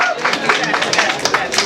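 A crowd at a live poetry show claps in a brief burst of applause, with distinct sharp claps rising through a busy crowd noise. The claps run steadily, fairly close and loud.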